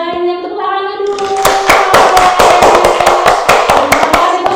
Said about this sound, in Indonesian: Terima kasih banyak, tepuk tangannya dulu.